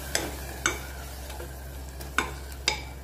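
A spoon stirs a pot of wild shevla vegetable curry after ground paste and water are added, giving four or five sharp scraping clinks over a low, steady simmering sizzle.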